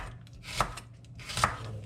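Knife strokes through fennel bulb, thin slices on a board: two sharp, distinct chops spaced under a second apart over a low steady background hum.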